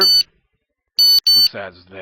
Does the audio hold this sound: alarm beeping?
yes